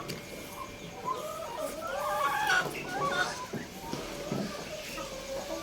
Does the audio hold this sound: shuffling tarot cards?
no